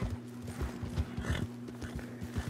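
Horse hooves clip-clop in Red Dead Online, a quick, even run of hollow thuds at a steady gallop, close and continuous under a faint constant hum.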